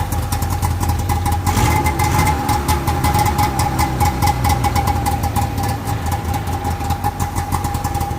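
A 1991 Jag snowmobile engine idles close by with a steady, fairly loud mid-pitched drone and a faint ticking, quieter than one with an aftermarket exhaust, holding even for about eight seconds with no talking.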